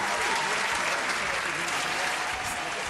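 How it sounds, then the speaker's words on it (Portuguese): A studio audience at a Brazilian TV music program claps in steady, dense applause that fills the whole stretch evenly at close range, with no voices rising above it. "As palmas!"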